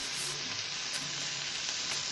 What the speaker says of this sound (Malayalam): ഈ ടൊമാറ്റോ വഴണ്ട് വരുന്നത് വരെ ഇളക്കി കൊടുക്കാം